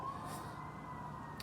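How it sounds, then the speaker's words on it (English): A faint siren wails in the distance, steady and low beneath a background hum, with no voices. "We got sirens out here."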